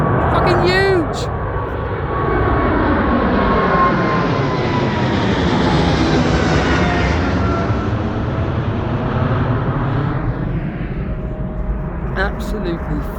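A large airplane passes at Heathrow Airport, a loud sustained jet roar that swells and sweeps in pitch as it goes by, with someone talking briefly at the start and end.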